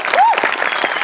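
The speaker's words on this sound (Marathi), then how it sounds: "एकदा जोरदार टाळ्या." A studio audience at a Marathi comedy show claps in a dense, loud burst of applause that carries on throughout, with a brief whistle rising over the crowd near the start.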